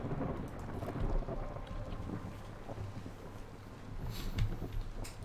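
A thunderstorm in the video game Against the Storm rumbles low and steady with rain and wind, with faint thunder cracks near the end, quiet and alone without speech.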